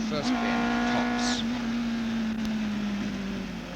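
A racing car engine at Silverstone holds a loud, steady drone near high revs at the start, its pitch sagging slightly as it pulls away, with a faint narrating voice underneath.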